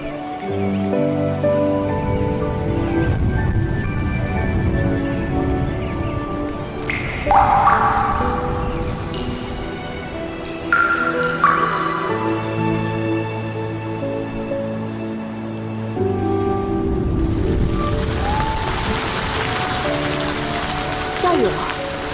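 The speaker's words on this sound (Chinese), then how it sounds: "下雨了" Steady rain falls in a period drama scene, a soft wash of drops that swells louder near the end, mixed under ringing musical tones.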